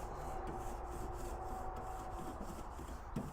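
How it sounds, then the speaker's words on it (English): Metal cooking grates on a heated barbecue smoker are scraped in a steady, rhythmic back-and-forth rasp, close and continuous, with no voices. "we will scrape the cooking grates off here a little bit"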